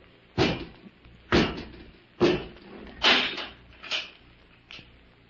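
A series of dull thuds, about six, spaced roughly a second apart, like a door being pushed shut and knocking against its frame, with no talking.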